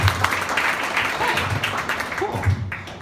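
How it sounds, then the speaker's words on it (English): Audience members at a live show who are married applaud on request, a dense, steady wash of clapping that fills the room, with a voice speaking over it. "go ahead and applaud for me if you're married"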